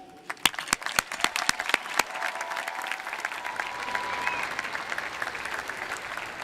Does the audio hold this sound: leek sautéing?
no